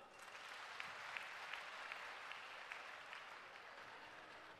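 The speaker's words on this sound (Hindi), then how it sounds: "जरा ताली बजाओ।" An audience at an Arya Samaj gathering claps together in a sustained, moderately distant round of applause that holds steady throughout.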